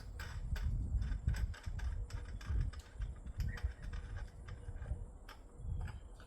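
Metal clicks and ratcheting turns ring out as a bolt is loosened and pulled from a compact paramotor hitch carrier, a close, irregular run of sharp taps and scrapes over low background rumble, with no talking.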